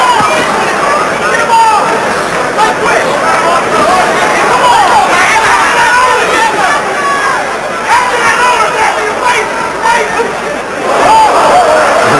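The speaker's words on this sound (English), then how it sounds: "And again, the oohs and ahs as he misses there." A boxing arena crowd at a Matthew Hilton versus Robert Hines IBF title fight lets out a loud, rolling wave of oohs and ahhs and general hubbub, mixed with chatter.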